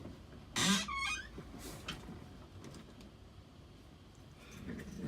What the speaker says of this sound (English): I'll just pull this door shut.